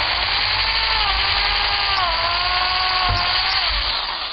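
A power drill bores dowel holes all the way through wood guided by a jig, a loud, steady high-pitched whine held without pause, with a slight pitch dip midway; no talking.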